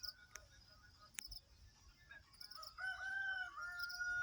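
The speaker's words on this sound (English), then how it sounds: "You hear the bird sounds and the chickens crowing, rooster chickens." A rooster crows at a distance in the second half, its drawn-out call rising over chirping birds and a low outdoor rumble.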